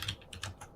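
Quick keystrokes on a mechanical keyboard, a short burst of about five clicky taps heard close and alone.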